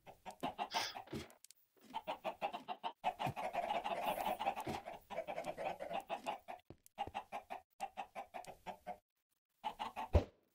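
A flock of chickens in the video game Minecraft cluck in quick, repeated bursts, with several birds overlapping at moderate volume, broken by brief silent gaps and then resuming.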